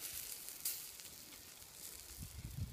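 Salmon wrapped in tin foil and burgers cooking over a campfire, giving a quiet, steady sizzle with soft crackles and a brief sharper pop, heard close and low with no talking.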